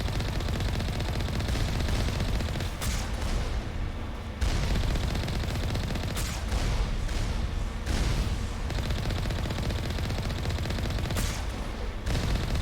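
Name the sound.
Alliance heavy turret gunfire in Mass Effect video game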